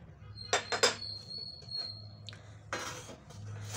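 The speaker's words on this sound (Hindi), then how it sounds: "ये मैंने अपने जार रेडी कर लिए और इसको मैं किसी छोटे बॉक्स में डालूँगी" Glass jars of cumin seeds set into a small box, several sharp clinks and knocks of glass, a few quick taps in a row, then a pause and another louder clatter, all close and fairly quiet.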